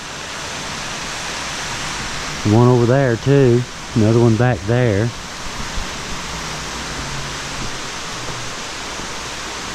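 A light rain shower falls steadily over a flood plain campsite, a constant broad hiss throughout, with someone speaking briefly over it in the middle.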